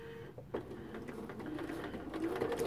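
A sewing machine chain-pieces quilt patchwork blocks, its quiet, close mechanical whir of stitches building steadily over a few seconds.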